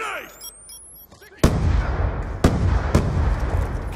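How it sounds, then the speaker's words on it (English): Black Ops 2 match on the Nuketown 2025 map: a loud close grenade blast bursts in after a quieter start, followed by two more sharp explosions amid continuous heavy gunfire and rumbling combat noise. "Grenade!"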